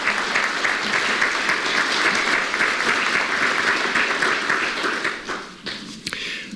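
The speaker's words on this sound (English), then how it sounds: "Let's give a round of applause." A crowd applauds loudly and steadily for several seconds, then the clapping thins out and fades toward the end.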